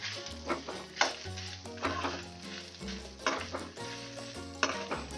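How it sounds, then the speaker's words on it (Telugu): Ginger and dried red chillies fried over medium flame for ginger pickle, a steady sizzle with rhythmic scraping and clinks of a spatula stirring in the pan, fairly close and without talk. "దీంట్లోనే మంచిగా మీడియం ఫ్లేమ్లో పెట్టుకొని మొత్తం తిప్పుతూ వేయించుకోండి."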